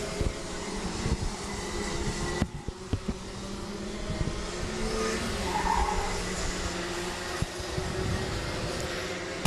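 Rotax Junior Max karts racing in a national karting championship final at MECO Kartopia, Bangalore, their engines droning and buzzing steadily throughout with a brief sharp knock near the start, no talk over them.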